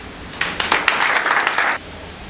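An audience at a capoeira event in São Gonçalo, Rio de Janeiro, breaks into loud, steady applause lasting over a second before it stops abruptly.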